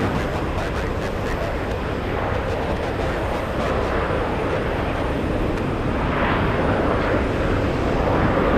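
A jet airliner roars down the runway on takeoff at Boston Logan International Airport, a broad continuous engine rumble and rush holding steady throughout at moderate distance.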